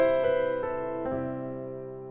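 Pop piano fill in 6/8 time: a few sustained chords struck in a gentle lilting rhythm, ringing out clearly and close with no voices, fading slightly toward the end.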